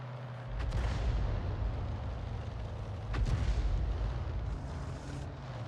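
Self-propelled guns such as the M53/M55 or SU-8 in a tank video game let off two heavy booms a few seconds apart, each a short rumbling burst over continuous low battlefield noise.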